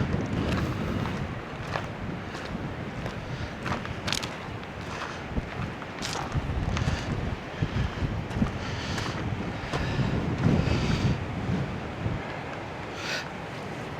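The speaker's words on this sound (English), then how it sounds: "By gum, it's breezy." Strong coastal wind at the Butt of Lewis on the Isle of Lewis, Scotland, roaring steadily and buffeting the microphone for the whole stretch, with a low rumble of surf beneath.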